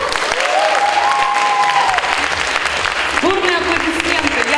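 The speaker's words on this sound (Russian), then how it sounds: "Бурные аплодисменты" A concert hall crowd at a student initiation event breaks into loud, continuous applause, with voices and music-like tones rising over the clapping.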